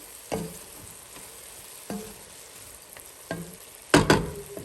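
Cabbage moong dal curry with coriander being stirred in a pan, a faint background sizzle punctuated by four spaced scrapes of a spoon, the last one louder and doubled.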